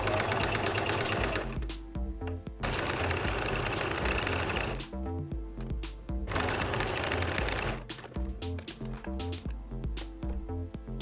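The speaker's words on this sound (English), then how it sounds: "sew along the pinned edge of the bow piece, starting and finishing with a back tack" A sewing machine stitches a seam along the pinned edge of a fabric bow piece, running in rapid mechanical bursts that start and stop several times, close and clear with no talking.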